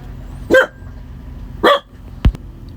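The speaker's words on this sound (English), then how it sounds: "did you hear Dottie bark there?" Dottie the dog lets out two sharp, loud barks about a second apart, close by, followed by a short knock or thud, with quiet background between and no speech.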